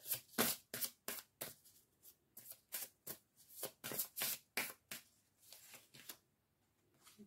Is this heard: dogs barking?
no